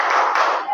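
A classroom of standing students claps together in a short rhythmic class chant, a dense burst of hand claps filling the moment, close and loud with no talking over it.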